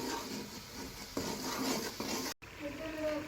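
Masala is fried on high flame while a spoon scrapes and clinks against the pan in a few stirring strokes, with a soft sizzle underneath and a brief pause before the scraping resumes.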